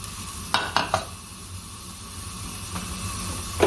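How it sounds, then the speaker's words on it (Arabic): Chopped leeks dropped into hot olive oil in a pan, giving a steady sizzle with a few sharp stirring scrapes near the start and end. "هننزل عليه بالكرات وهنشوحه فيه شويه"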